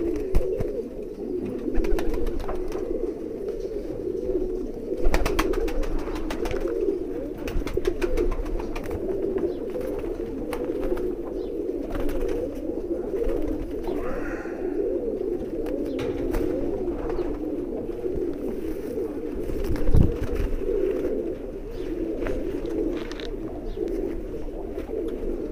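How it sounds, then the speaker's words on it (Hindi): Big breeder pigeons coo continuously in a low, soft, rolling murmur from several birds close by, with occasional flutters and handling clicks mixed in. "बहुत बिग साइज है, ब्रीडर कबूतर है ये।"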